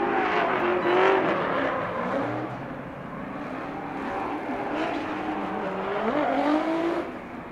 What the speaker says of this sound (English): The Achilles radial tires being lit up just a little bit there